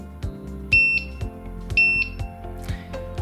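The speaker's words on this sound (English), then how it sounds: "you should hear a double beep this time" Moore & Wright M198 Premium Line height gauge sounding two distinct double beeps as its stylus is calibrated, clear high tones standing out over a low mechanical hum and light clicks.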